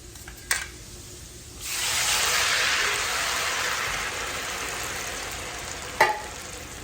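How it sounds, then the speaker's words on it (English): Refried beans with bacon grease and liquid stirred in a pot, a sustained hissing, sizzling swirl that starts after a sharp knock and ends with another clunk, close and fairly loud. "One and two. Get stirred around."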